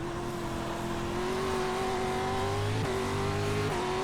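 Pro 4 off-road truck engine in an iRacing dirt race at Lucas Oil Speedway, a steady loud tonal drone that rises slightly in pitch, with a brief dip near the end, no talking.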